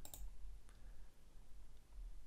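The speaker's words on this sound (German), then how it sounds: "Ich klicke hier auf Übernehmen" A computer mouse gives a few faint, sharp clicks while editing footnotes in Microsoft Word, close but quiet over a low, steady hum.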